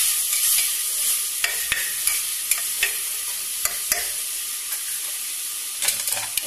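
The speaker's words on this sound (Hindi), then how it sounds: "मसला गुड़ा भाजी नेबी।" Masala and tomatoes fry in a pan for a crab curry, an even close hiss with sharp intermittent scraping stirs of a spatula against the pan, no voices present.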